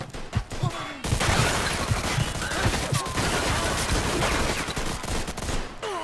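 Gunfire in the Mafia 2 video game: a dense, continuous fusillade of rapid shots and bursts, loud and sustained after a brief opening of scattered pops, with a few voices in the mix.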